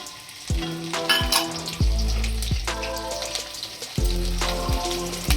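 Green chillies and garlic frying in hot oil for hotel-style paneer chilli, a loud close sizzle that swells with each stir and is broken by several sharp scrapes of a spoon against the pan.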